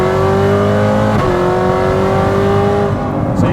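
A retuned 900hp C7 Corvette ZR1 pulls hard at full throttle in third gear, its engine a loud, steady close-up roar with a brief dip in tone partway through, no voices over it.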